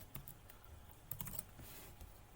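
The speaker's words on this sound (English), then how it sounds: "If we are typing in just any random logins" Quiet, close keystrokes on a computer keyboard tap out a short irregular run while random login details are typed into a mock-up username and password screen.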